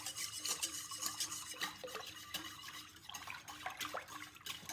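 Hot process soap mixture being whisked in a pot, a continuous wet scraping and swishing with irregular clinks of the whisk against the sides, close and fairly steady, no talking.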